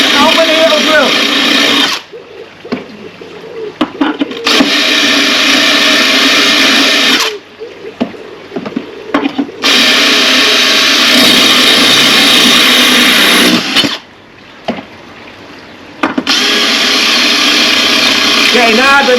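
A power drill grinds through porcelain tile in three long, loud bursts of harsh whining noise, broken by short pauses where the motor stops, with a last burst starting near the end.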